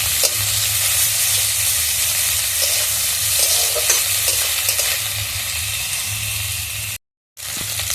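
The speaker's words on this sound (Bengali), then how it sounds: "এবার আমি কেটে রাখা চিংড়ি মাছগুলো দিয়ে দেবো।" Prawns stir-frying with vegetables in a pan, a loud continuous sizzle and crackle with stirring scrapes over a low hum, broken near the end by a brief gap of silence.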